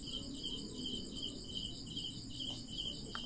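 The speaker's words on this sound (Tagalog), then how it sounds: "Ano ba yan? Mga insekto." Insects chirp at night in a public cemetery after rain, forming a dense, continuous high trill that fills the whole stretch at a steady level with no pauses.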